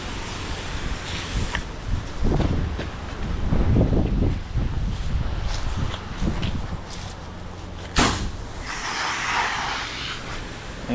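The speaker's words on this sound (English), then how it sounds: "it's pretty windy out here today too" Gusty wind buffets the microphone outdoors during house soft washing, with low rumbling noise and some rustling and movement sounds throughout.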